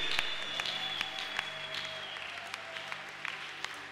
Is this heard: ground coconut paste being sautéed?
no